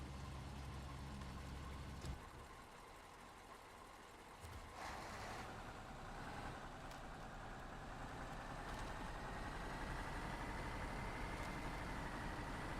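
A truck engine idles and runs steadily in a video game, a low heavy rumble throughout with a rising whine building after the midpoint, no talking.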